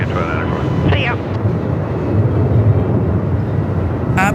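Aircraft taking off at Melbourne Airport in 45-plus knot winds, a steady distant engine rumble under heavy wind buffeting on the microphone, with brief radio voices breaking in.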